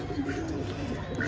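A pigeon coos softly in a short, steady burst with low murmuring tones, set against a faint, continuous background.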